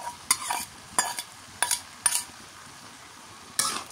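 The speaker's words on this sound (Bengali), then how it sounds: "এখন হচ্ছে দিয়ে দিই পেঁয়াজ রসুন বাটা।" Onion and garlic paste fries in a pan over a low sizzle, broken by five sharp scraping strokes of a spoon against the pan, with no voices.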